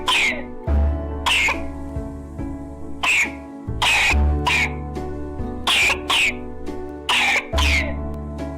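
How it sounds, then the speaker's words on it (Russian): A child's strong, coarse, wet cough, repeated in harsh bursts, some in quick pairs, with gasping breaths between them, loud and close. "Шестой тип кашля – это сильный, грубый, влажный кашель, который длится более недели."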